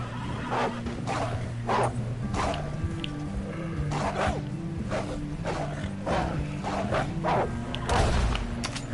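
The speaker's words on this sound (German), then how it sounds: "We got more wolves on the left." Wolves bark and yelp in Red Dead Redemption Online, a run of sharp, repeated calls mixed with game music and shouting players.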